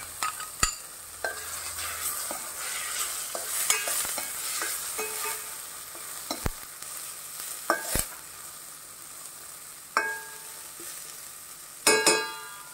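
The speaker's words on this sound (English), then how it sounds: "Tomatoes you need to saute at least for 3 to 4 minutes" Tomatoes sautéing in a pan for a Goan coconut caldine, a soft continuous sizzle broken by sharp spoon scrapes and knocks against the pan at irregular intervals, no voices.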